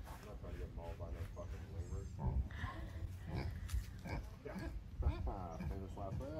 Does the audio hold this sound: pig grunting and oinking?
yes